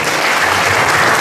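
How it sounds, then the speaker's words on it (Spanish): Loud, dense audience applause welcoming a guest lecturer at a talk on extraterrestrial military activity, a continuous close wash of many hands clapping throughout. "Demos la bienvenida, pues, con un fuerte aplauso a Carlos Alberto"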